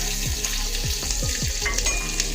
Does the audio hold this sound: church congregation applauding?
no